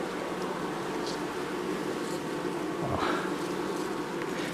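Honey bees hum steadily on the frames of an open hive in August, a dense, close, continuous buzzing with occasional individual bees droning past, no speech.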